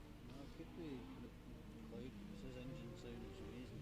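A Peugeot 205 rally car on a Mull rally stage is heard faintly in the distance as a low engine note rising and falling through gear changes, with people talking over it.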